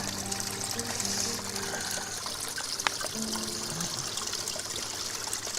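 Mountain stream water trickles and splashes into a bottle at a gill on a Lakeland fell walk, a close, steady babbling flow with small gurgles.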